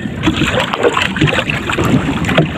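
A small boat is paddled against a strong current and gusty northeast wind on Philippine waters at night, with repeated irregular splashes and strokes under constant wind noise across the whole stretch.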